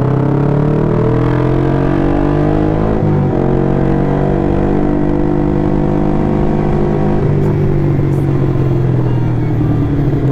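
A motorcycle engine, above 400 cc, drones and revs steadily while riding, loud and close with a rising and falling pitch as the throttle changes, and no talk.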